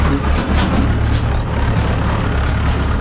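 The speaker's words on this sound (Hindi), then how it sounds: "ट्रैक्टर निकल जाए।" Tractor passing by outdoors, a loud steady low engine rumble with heavy broadband noise that stays dense and continuous throughout.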